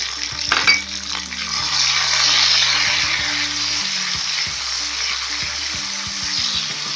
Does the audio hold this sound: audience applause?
no